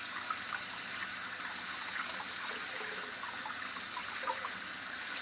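Cold tap water runs over fabric in a steady, soft, continuous splashing gush. It is faint and close, with no talking.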